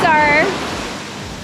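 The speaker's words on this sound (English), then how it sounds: "These waves" Ocean waves wash onto a beach in Krabi, Thailand, a steady close broadband rush of surf, with a person talking briefly over it at the start.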